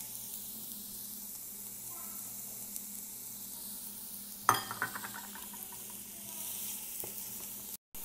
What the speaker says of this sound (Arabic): الحين ببدا اضيف البصل مع شوي زيت بحمسه، وممكن فلفل رومي عشان النكهه كمان